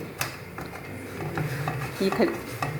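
Dates and dried fruits being stirred in a pan for date ball laddoos, a soft, steady scraping and shuffling with faint utensil clicks and a gentle sizzle underneath, close and fairly quiet.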